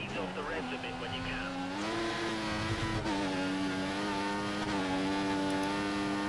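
Race car engine in F1 2014 at the Chinese Grand Prix qualifying, a loud sustained high-pitched whine that rises and falls with gear changes, continuous and close, with commentary talk over it.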